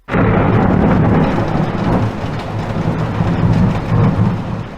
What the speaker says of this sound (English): Then the thunder cracked.